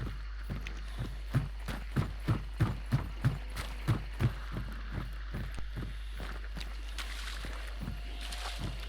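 Horse hooves clip-clop at a steady trot in the video game Hunt: Showdown, a run of distinct, fairly close footfalls for several seconds that thins out and fades, with faint ambient noise behind.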